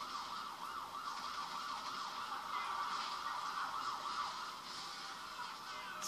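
Police car siren in GTA 5, a faint wailing tone rising and falling repeatedly in the distance over a low engine hum, with no talking.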